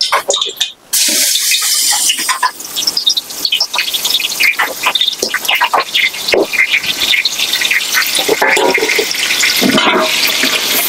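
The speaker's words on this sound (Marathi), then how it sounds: "हे आलं लसूण छानसं परतून घ्यायचं आपल्याला तेलामध्ये." Ginger garlic paste sautéing in hot oil, a loud, steady close-up sizzle and hiss running the whole time with a brief dip near the start, no voices.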